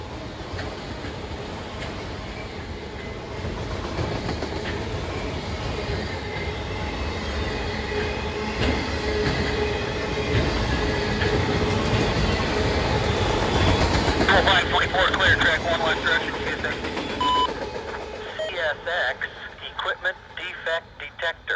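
Conrail freight train M205, ex EBSR bound for Louisville, passes Voorheesville with a continuous rolling rumble and clatter of railcars that builds, then thins into rhythmic wheel clicks toward the end, with faint voices in the background.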